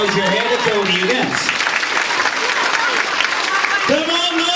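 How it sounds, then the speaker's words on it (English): An audience at a hypnotist show in Magaluf claps loudly and continuously, a dense wash of hands while a voice speaks over it at the start and again near the end. "The more of a clapping noise you hear,"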